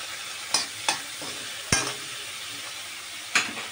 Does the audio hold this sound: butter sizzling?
yes